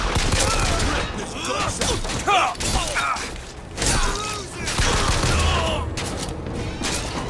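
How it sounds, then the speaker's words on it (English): Gunfire in the video game Bioshock Infinite, rapid bursts of shots and mechanical clatter, loud and near, with brief pauses between volleys and some talking. "Some guy's shooting at me."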